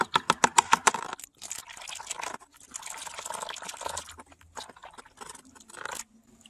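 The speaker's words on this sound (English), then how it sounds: "And now I'll just screen out to 325 mesh." Gold concentrate is washed with water through a 325 mesh screen: close splashing and trickling with a few sharp clicks and taps at the start, then uneven wet sloshing that stops briefly near the end.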